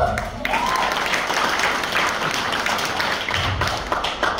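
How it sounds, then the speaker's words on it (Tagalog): A church congregation claps loudly during a worship exhortation, a thick, energetic burst of hand clapping close by that continues without pause, with occasional thumps mixed in. "Palakpak po!"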